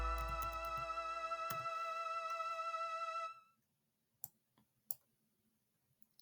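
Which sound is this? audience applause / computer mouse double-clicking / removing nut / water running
computer mouse double-clicking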